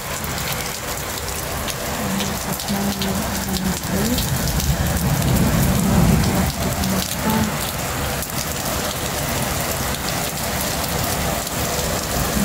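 Heavy typhoon rain pours down steadily, a dense, loud hiss drumming on surfaces throughout, with a faint low rumble underneath.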